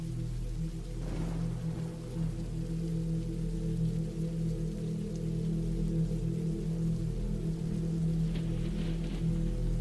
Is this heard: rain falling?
yes